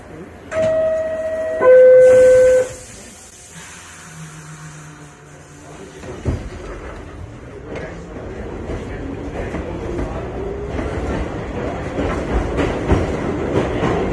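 A New York subway train rumbles along with a steady rising roar, after a short chime of station tones at the start.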